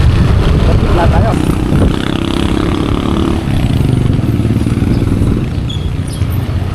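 A motorcycle engine runs steadily and fairly loud while overtaking on a road on the way to a campsite, with people talking over much of it.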